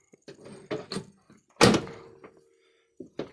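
An old, clean car with 74,000 miles that sat for 30 years has its door pushed shut, giving one loud, solid thunk amid softer handling clicks and scuffs, close by with a voice briefly heard.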